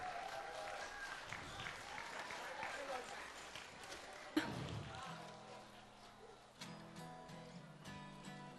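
An audience at the Ustuu-Khuree 2010 festival concert applauds a performer as she is called to the stage, a broad wash of clapping that fades as music begins.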